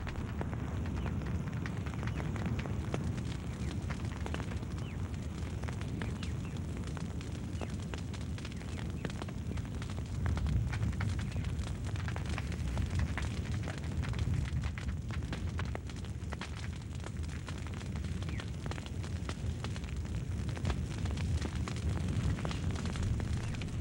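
A hill fire burns through vegetation, a dense continuous roar and crackle with low rumbling, steady and fairly loud for the whole stretch, no voices.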